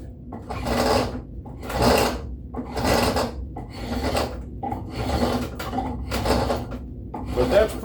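Rasp filing a wooden handle by hand, about seven rough scraping strokes in a steady back-and-forth rhythm, close and fairly loud with brief pauses between strokes.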